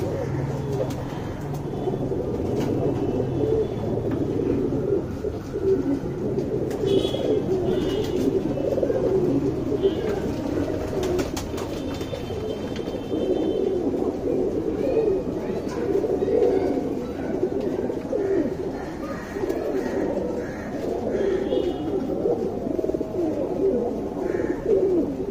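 Pigeons, a red-copper male and a female among birds offered to new hobbyists, coo steadily in a loose chorus close by, a continuous low burbling murmur with occasional sharper calls and faint background noise throughout.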